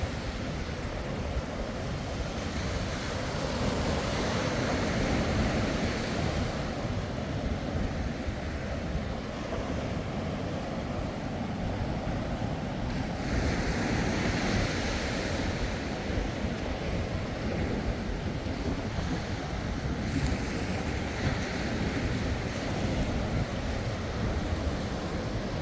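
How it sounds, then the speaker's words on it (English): Gulf of Mexico waves breaking and washing up the shore on Panama City Beach, making a steady, loud surf roar mixed with strong wind buffeting the microphone. "These waves coming way up on shore"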